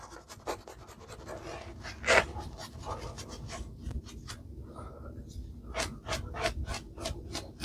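Close, soft rubbing and rasping strokes, irregular and fairly quiet, as shaving soap is brushed and worked onto skin, with occasional breathy sounds.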